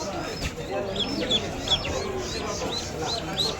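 Chickens cluck and chirp at a small cheap duck and chicken market in West Bengal, repeated short calls close by over a busy background where people talk.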